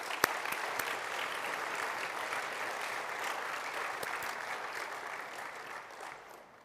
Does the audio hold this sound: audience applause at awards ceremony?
yes